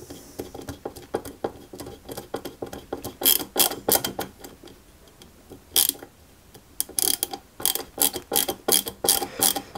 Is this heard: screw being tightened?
yes